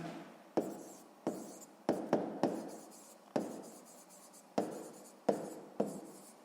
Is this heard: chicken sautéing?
no